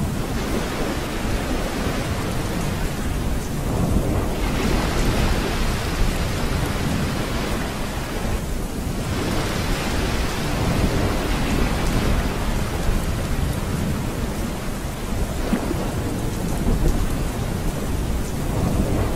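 Rain pours steadily through a stormy night with rumbling thunder rising and fading, a dense continuous wash of rainfall with no voices, set as the storm backdrop of an animated ghost story.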